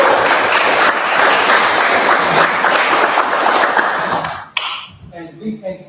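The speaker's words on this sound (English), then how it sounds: "So a round of applause for all of you." Audience at a local candidates' meeting clapping in a thick, sustained round that stops abruptly near the end, leaving scattered room noise and a voice beginning to speak.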